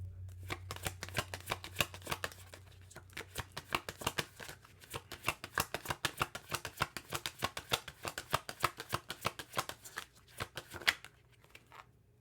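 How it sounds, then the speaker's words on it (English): Tarot cards being shuffled in a long run of rapid, crisp riffling flutters, close and fairly loud with no talking, ending in a brief pause near the end as a card is drawn. "Let me get one more card for the Queen of Wands"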